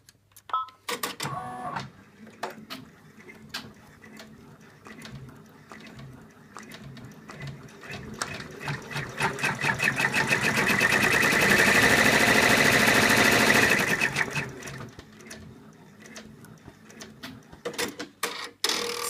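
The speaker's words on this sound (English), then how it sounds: "put the hoop in the machine, and we're going to stitch" An embroidery machine stitches an in-the-hoop elephant design, a fast rapid-fire needle chatter that builds to a loud, dense whir in the middle before slowing into scattered clicks.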